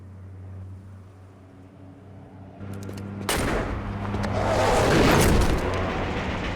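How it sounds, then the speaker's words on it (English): A Saints Row cutscene explosion bursts in suddenly as a loud broadband blast over a low engine-like hum, then swells into a sustained roaring rumble that keeps building and lingers. "That was a hell of an explosion."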